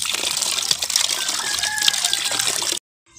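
Water gushing from a hand pump (poso), a loud, close, steady splashing rush for nearly three seconds that then stops abruptly.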